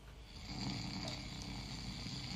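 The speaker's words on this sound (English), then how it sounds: "Was he just deep snoring?" Deep, steady snoring from a sleeping man in a movie, a continuous rasping drone heard at moderate volume and close, with no talk over it.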